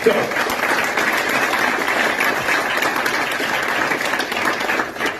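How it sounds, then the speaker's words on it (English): Sustained, loud applause from an audience welcoming a speaker at the Rocket Mortgage Classic event, an even continuous roar of clapping. "please, a round of applause for Bill Emerson"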